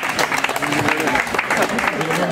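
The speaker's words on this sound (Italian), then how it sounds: "Un forte applauso, grazie." A crowd at a sports festival in Barile, Italy claps loudly and continuously, with voices audible beneath the applause.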